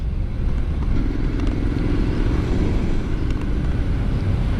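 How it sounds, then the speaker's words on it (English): A 2023 Triumph Scrambler 900 motorcycle being ridden, its engine holding a steady low drone through the whole stretch, with constant wind rush over the microphone and no voices. "You're riding a Triumph Scrambler 900."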